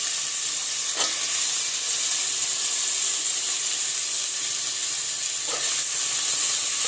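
A loud, steady sizzle of a tempering for vegetable khichdi in a hot pan, hissing evenly throughout with a couple of brief crackling bursts.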